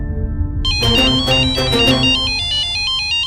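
A phone ringtone for an incoming video call plays a bright, repeating electronic melody, loud and close, with no voices over it.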